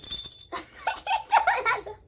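A small hand bell dings once briefly during a guess-the-food challenge game, followed by people laughing and talking close by.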